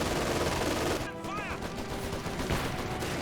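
StG assault rifles fire from German Grenadiers in a Company of Heroes 2 battle, a dense stretch of rapid gunshots crackling over constant combat noise, with a brief whistling tone partway through.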